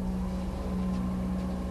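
A steady low boat engine drone with a constant hum, held at an even level throughout, revving forward in a marina in Bangor, Northern Ireland.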